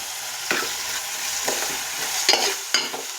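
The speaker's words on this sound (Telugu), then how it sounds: "వీటిని కాసేపు ఫ్రై చేసుకుందాం." Brinjal and dried prawns fry in a pan with a steady broadband sizzle, broken by a few sharper scraping stirs of the spoon; close, moderately loud and without any talk.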